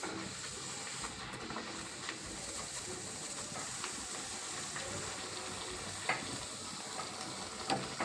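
Rava appalu, a semolina sweet, deep-fry in oil with a continuous close hiss and bubbling sizzle, steady in loudness, with a couple of faint clinks near the end.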